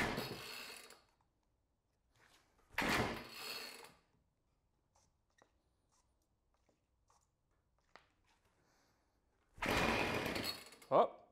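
The pull cord of a Ryobi 725r two-stroke engine, rebuilt from a box of parts, is yanked in a few separate rasping bursts with quiet gaps between them, close by; the engine does not catch.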